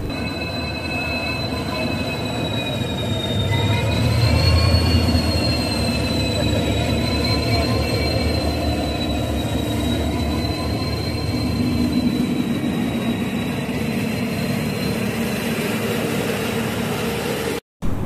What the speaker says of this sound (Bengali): আর দেখতে দেখতে আমাদের ট্রেন ঢুকে পড়ে।